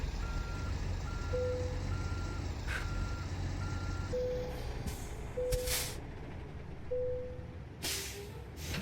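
Truck reversing alarm in American Truck Simulator: a steady series of short, evenly spaced beeps repeating over a continuous engine rumble, with occasional bursts of air-brake hiss.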